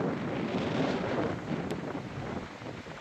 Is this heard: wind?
yes